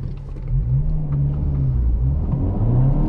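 A 2023 Acura Integra engine accelerating in an individually configured sport mode, heard from inside the car as a deep, rising rumble with a climbing engine tone that grows slightly louder.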